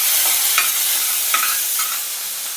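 Tomato frying in oil in a pan for Maharashtrian Bhogichi bhaji, with onion and mustard seeds, gives a steady close sizzle while a spoon stirs and scrapes in a few brief strokes.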